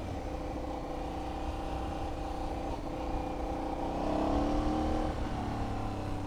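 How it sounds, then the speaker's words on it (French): Aprilia Shiver 750 twin-cylinder motorcycle engine braking while riding, a steady loud drone with wind roar that swells briefly near the end as revs change. "il y a un frein moteur fort sympathique sur ces petites Shiver"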